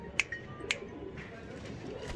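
Pet pigeon giving two soft, short coos close by in a quiet room, with faint background hiss.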